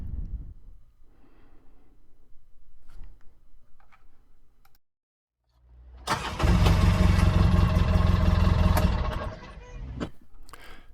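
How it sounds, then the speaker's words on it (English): A Polaris RZR 570 or 800 engine, just fixed by cleaning its brake sensor, cranks and catches. A few seconds of loud rough turnover and running follow quiet shuffling and clicks, then it settles back down. "you give it another try and it should turn over properly"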